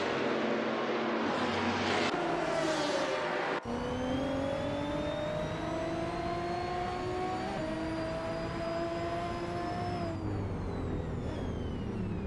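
GTS race cars lapping Daytona in a racing video game, engines droning and rising in pitch together as they accelerate, one cutting in abruptly partway through, sustained and fairly loud with no voices.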